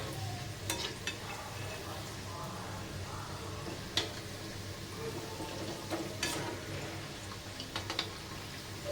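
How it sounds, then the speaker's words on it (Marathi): Sabudana cutlets frying in a pan over a medium gas flame give off a steady, even sizzle, with faint scattered clicks and scrapes from a spoon turning them. "मीडियम गॅसवरती आपल्याला हे फ्राय करायचे आहेत."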